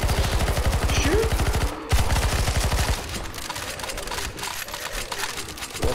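Rapid automatic gunfire rattles out in a steady stream in a Counter-Strike: Global Offensive zombie escape mod on the ze_siberia_1991 map, then gives way to quieter, scattered game sounds.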